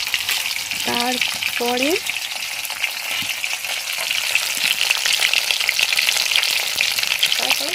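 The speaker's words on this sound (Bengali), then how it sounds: "ইলিশ মাছ এমনি হালকা করে ভাজলেই হয়, তবুও আমি ভালো করে ভেজেছি" Hilsa fish fry in a pan with a loud, continuous sizzle and crackle that persists throughout, while someone speaks briefly over it.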